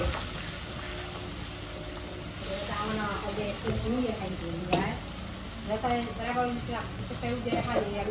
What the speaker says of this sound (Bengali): একটা একটা করিয়া মাছ ফুটন্ত তেলের মধ্যে সারা হয়ে যায়